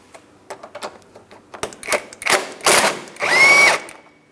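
A 15mm ratcheting wrench works a suspension mounting nut on a 2003-2007 Cadillac CTS front lower control arm, giving a run of close, rapid ratcheting clicks that grow into louder, sustained bursts.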